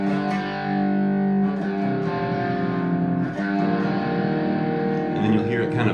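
A heavily distorted electric guitar works through an augmented chord progression, thick sustained chords with chorus and reverb, strummed steadily and loud with short breaks between changes.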